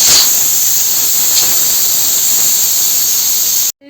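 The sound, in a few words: pressure cooker releasing steam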